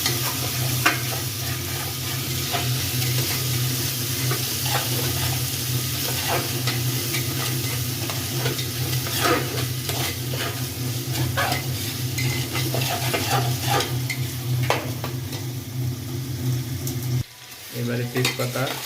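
Onions frying in oil with whole garlic while being stirred for bhuna khichuri, a continuous close sizzle with constant scraping and stirring and a brief dip near the end.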